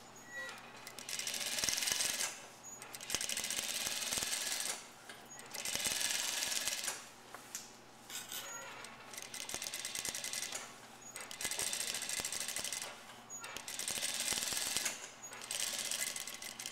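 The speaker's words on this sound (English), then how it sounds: "you're going to top stitch the back yoke" A sewing machine top stitches the back yoke of a blouse in four or five steady bursts of rapid mechanical chatter, each a couple of seconds long, with short quiet pauses between them.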